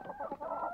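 Backyard chickens, a hen and a rooster, cluck in a brief, close burst of overlapping calls with no talking.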